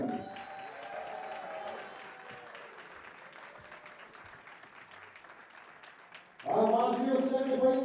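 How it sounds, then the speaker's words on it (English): Audience applause fills the hall at the WDF 2024 World Darts Championship as Australia's Howard Jones leaves the stage, a steady crowd clapping that runs under a voice and then gives way to a louder announcer. "a massive round of applause as he leads the stage for Australia's Howard Jones"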